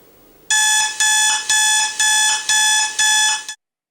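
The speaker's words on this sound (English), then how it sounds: "Why would the alarm be that loud if I'm looking at the actual app and the phone is unlocked?" A ThermoWorks ThermaQ Wifi app high heat alarm sounds loudly on an unlocked phone: six rapid, bright electronic beep bursts in an even rhythm, close and alone, then abrupt silence.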